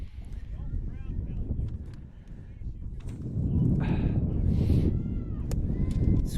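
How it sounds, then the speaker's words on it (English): Wind buffets a microphone outdoors at a youth girls' soccer game, a low rumbling roar that swells and gusts louder midway, with voices calling faintly over it. "This wind is unreal"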